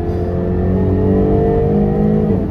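A 2016 Jaguar F-Type's V6 exhaust gives a loud, raspy, throaty drone that holds steady, then shifts pitch near the end, heard up close and without speech.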